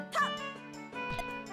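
A dog in Super Mario Maker, on a Majora's Mask Clock Town course, gives a couple of short, sharp yipping barks close up.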